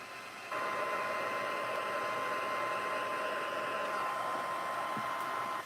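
A craft heat tool blows steadily while embossing powder on card, a loud continuous close whooshing hum that starts abruptly and runs unbroken for several seconds.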